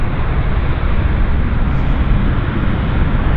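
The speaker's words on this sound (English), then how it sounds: "They call it the spiraling takeoff." An RCAF C-130 Hercules making a spiraling takeoff at an air show, a loud continuous roar of turboprop engines that holds steady throughout, close and heavy.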